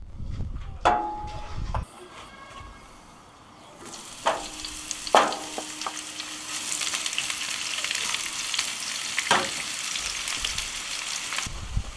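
Onions frying in a pan on a barbecue, cooking toward golden brown: a steady, dense sizzle fills the scene, broken by a few sharp clinks and scrapes of stirring, close and alone without talk.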